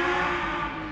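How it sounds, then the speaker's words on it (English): Lamborghini Essenza SCV12 track hypercar with a V12 engine, a steady, loud, harmonic engine drone held at fairly constant revs for a brief moment. "The sound of a V12 engine, this is a unique sound"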